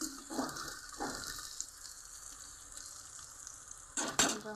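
Sliced onions with salt fry in a pan for coconut rice, a steady close sizzle broken by a few louder scraping stirs at the start and end.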